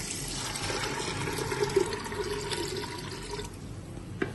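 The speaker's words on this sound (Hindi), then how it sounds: "इसमें जो है 3 से 4 गिलास पानी शामिल करेंगे।" Water pours steadily into a cooking pot for chana pulao, a continuous rushing splash that stays loud and close, then thins near the end as the pour finishes, with no talking.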